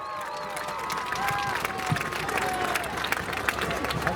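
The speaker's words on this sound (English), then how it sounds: "Let's have one more round of applause for Homecoming Queen and King, Mariah Andrus and Jacob Wynn" Crowd applause and cheering for the homecoming queen and king at a Marysville High School homecoming event, a steady wash of clapping with scattered whistles and shouts, moderately loud throughout.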